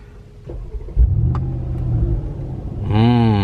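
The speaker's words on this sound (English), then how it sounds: "So I'm gonna start the engine and give you a little feel for what is under the hood." A 2019 Mercedes-Benz G500 4x4 engine cranks, catches with a deep burst and settles into a rumbling idle, then revs up in a rising, throaty sweep near the end, close and loud.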